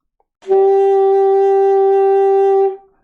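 A single sustained saxophone note, an E, steady and clear, held for a couple of seconds and then released, with no other sound around it.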